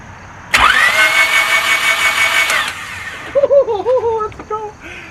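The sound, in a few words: Honda Civic engine cranking and starting after head gasket repair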